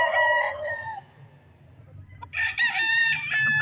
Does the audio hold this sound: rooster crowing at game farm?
yes